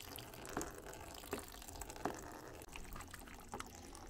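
Water is poured over plant ash in a container, producing a faint, steady trickling and splashing with a few small louder splashes throughout.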